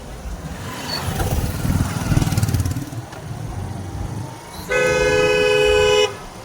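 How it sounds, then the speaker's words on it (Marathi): Traffic rumbles nearby, then a vehicle horn blares in a long sustained blast close by, after fainter toots earlier. "आता बघा हा माणूस नुसता हॉर्न मारत चाललाय"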